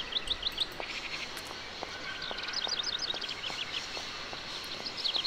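Birds chirp in the video game Syberia: bright, quick twittering calls in repeated clusters over a soft ambient bed, with scattered faint ticks and no talking.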